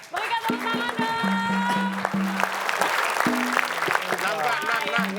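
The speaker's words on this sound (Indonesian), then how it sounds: "Berikan tepuk tangan dong." An Indonesian TV quiz show studio audience claps, steady applause mixed with musical tones and brief voices in the background.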